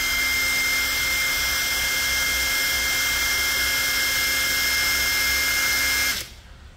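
A cordless brushless impact driver, model DCK KDPL03-14 on a full battery, runs at top speed with a steady, loud high-pitched motor whine holding for about six seconds before cutting off abruptly.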